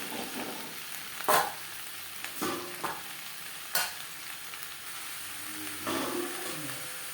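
Eggplant mixed into frying vegetables for a cauliflower-stem chorchori, stirred in a hot pan: a steady sizzle broken by several distinct spatula scrapes and knocks, close and moderately loud, with no talking.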